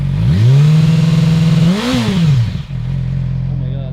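A Yamaha R6 sport motorcycle with its dB killer removed revs hard up close, the engine note climbing and falling in loud throttle blips before settling into a steady idle.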